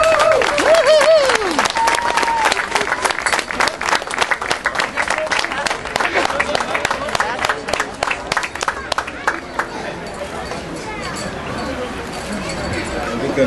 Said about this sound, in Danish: Giv dem et varmt bifald.